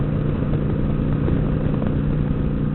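A Kawasaki Vulcan 900 Classic LT cruises in top gear at highway speed, its engine a loud, steady, low drone layered with continuous rushing wind, close and unbroken throughout.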